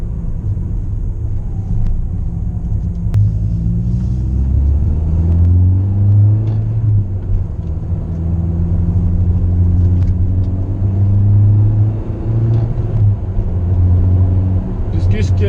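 A Peugeot 206 S16 with a 2-litre 138 hp engine driving, its low engine drone rising and falling steadily through the gears, heard from inside the car under continuous talking.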